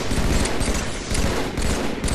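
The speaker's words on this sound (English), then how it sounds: "I'm shooting his body after every time that I kill him" Halo 3 video game gunfire during Team Slayer ranked play, a loud continuous burst of rapid automatic shots filling the whole moment with no talk.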